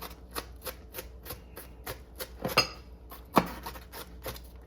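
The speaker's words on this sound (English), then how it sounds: "I'm going to take and chop them a little bit more because you want these to be real fine" A knife chops onions finely on a cutting board, a steady run of crisp, evenly spaced knocks close by, with a couple of louder clatters partway through.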